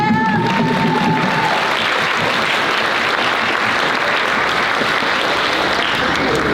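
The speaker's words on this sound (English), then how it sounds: "So let's give them a round of applause." Sustained applause from an audience at a Chinese club spring dinner, a dense, loud wash of clapping filling the whole stretch, with a faint tone in the background at the start.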